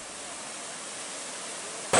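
Waterfall rushing as a steady, broadband roar, constant and fairly loud without pauses, ending in a brief louder burst at the very end.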